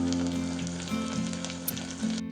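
Curry leaves sizzling in hot oil in a pan with mustard seeds, green chillies and shallots, a steady close crackling fry with small pops, alone without talk.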